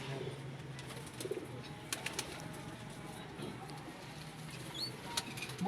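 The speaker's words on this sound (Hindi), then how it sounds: "अब मुजाहिद भाई अपने सबसे फेवरेट कबूतर दिखाएंगे" Pigeons coo softly over a busy outdoor background, with occasional bursts of wing flapping and faint chirps scattered throughout.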